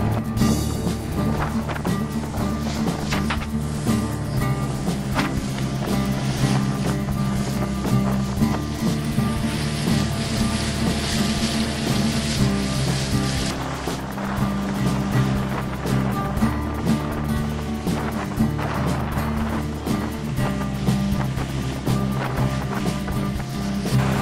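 A 20-foot freighter canoe under outboard power runs through river rapids, its steady motor drone blending with rushing water and wind for a long stretch without talk.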